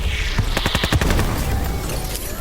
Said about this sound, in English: if you close your eyes and listen to that daka daka of this gun